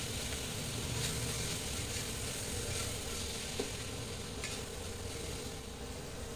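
Cauliflower biryani masala being stirred in a pressure cooker, a steady low sizzle with faint scraping running throughout, moderately quiet and close, with no talking.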